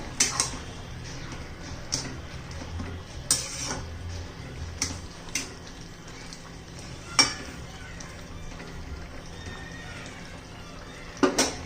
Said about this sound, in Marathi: पुन्हा सर्व व्यवस्थित मिक्स करूया